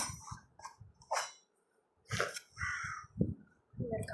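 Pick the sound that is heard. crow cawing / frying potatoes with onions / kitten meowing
crow cawing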